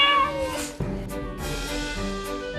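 A cat meows at a window in drawn-out, plaintive cries, fairly close and loud, with a faint rustle in the background.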